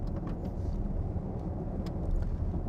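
Low, steady road roar fills the cabin of a Jaguar driving over a coarse, open road surface, a continuous muffled rumble with faint ticks.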